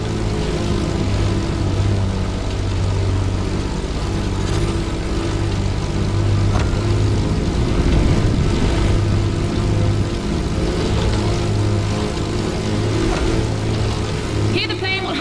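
A propeller plane drones loudly alongside the roaring engine of an AGP race car during a race in The Crew Motorfest, a continuous steady engine hum throughout with a brief change near the end.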